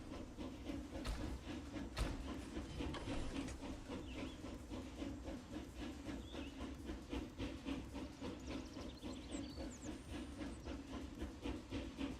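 A train runs steadily in the Super Mecha Champions game, a continuous hissing rumble with rapid clacking on the rails and no talking over it.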